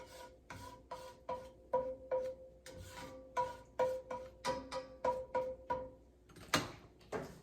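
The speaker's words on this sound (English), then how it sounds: "Scrape the pan." Rhythmic rasping scrapes of a utensil across a pan while clearing out cooked mushrooms and their last liquid, about a dozen short strokes in steady succession, close and moderately loud with no talking.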